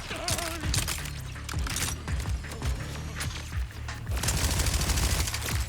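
Rapid gunfire and rocket blasts in the video game Borderlands 4, with enemies firing rockets at the player amid dense, continuous bursts of shots and impacts that keep going throughout and swell louder near the end.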